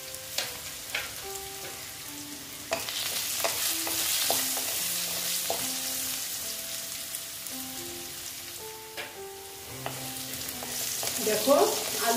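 Potatoes with turmeric frying in a pan give a steady sizzle, with scraping stirs and clinks of a spatula against the pan coming at irregular intervals, close by.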